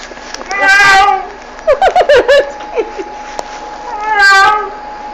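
A man at a bus station imitates a cat, drawing out a long meow, then a rapid string of short mewing yowls, and another long meow, loud and close.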